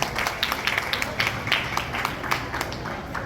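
An audience at a religious katha event claps in a sustained, fairly even round of applause, with a faint murmur of voices beneath the clapping.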